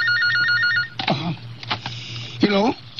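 An indoor telephone rings with a repeating electronic trill for about a second, then stops as people start talking nearby, one voice answering.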